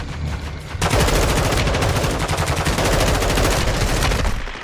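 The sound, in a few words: gunfire in the video game Call of Duty Warzone 2.0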